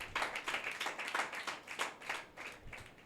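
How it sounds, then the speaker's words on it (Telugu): A church audience claps hands in a quick, even rhythm, roughly a dozen crisp claps close by with no talk over them. "చప్పట్లు కొడదాం."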